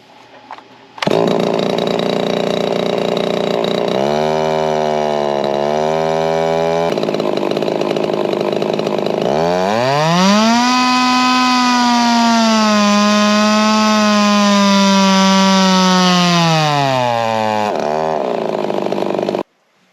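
A fully ported Johnson 50cc two-stroke engine with advanced timing screams on a dyno, close and loud, idling and blipping before a long sustained high-rev run whose pitch climbs, holds and then drops off.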